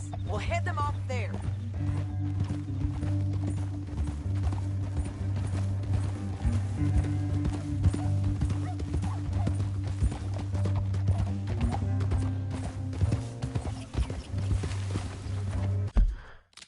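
A horse's hooves clip-clop at a steady gallop through a Red Dead Redemption 2 game scene, a continuous rhythmic pounding with dialogue over it.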